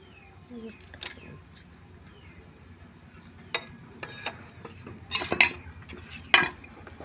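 A spoon scrapes and clinks against a bowl while batter is scooped for steamed bhapa pitha; a few sharp, scattered taps and clatters over a quiet kitchen background.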